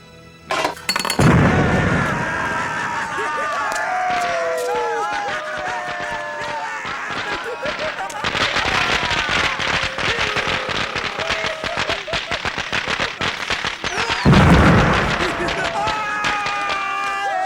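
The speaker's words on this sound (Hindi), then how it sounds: "पटाखे किस खुशी में जला रहे हो?" Rapid crackling bursts of firecrackers pop and snap in dense strings, with louder booms near the start and again later, amid voices and whistling sparks.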